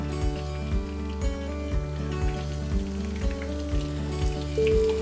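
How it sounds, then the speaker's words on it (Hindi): Chicken cheese balls deep-fry in oil with a soft, steady crackling sizzle, which sits under louder, rhythmic background music. "और धीरे धीरे इस तरह से इसको उलट पलट करके आप फ्राई करते रहें।"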